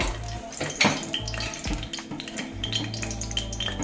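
Bitter gourd frying in a little oil in a pan, a steady low sizzle with occasional clinks and stirring scrapes against the pan, close and continuous without talk.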